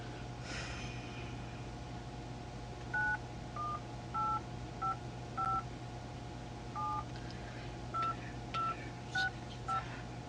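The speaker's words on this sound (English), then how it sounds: "Call Brian's phone." Touch-tone keypad dialing while calling someone's phone: about a dozen short, crisp DTMF beeps in an irregular rhythm, sounding close and clear over a steady low electrical hum and quiet room noise.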